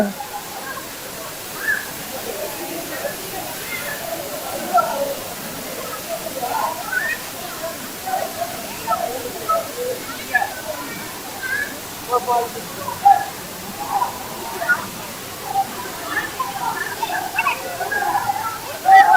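Close-up of the waterfall at Thirumoorthy Hills, a steady broad rush of falling water throughout, with scattered splashing bursts and people talking over it.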